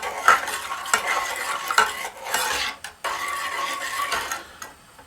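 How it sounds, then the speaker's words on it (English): Sweet mango habanero sauce mixture is stirred in a pot over medium heat, making close, repeated scraping and clinking strokes with a light sizzle between them and no voices. "We're going to mix and cook over medium heat."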